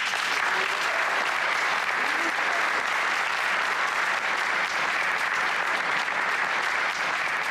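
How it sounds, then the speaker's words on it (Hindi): A crowd applauds the school principal at a gathering in a Turkish drama, dense steady clapping filling the whole stretch without pause or voices. "तो सबसे पहले प्रिंसिपल सर के लिए तालियां।"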